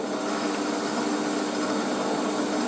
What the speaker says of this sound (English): Oh, I can hear the motor bogging down.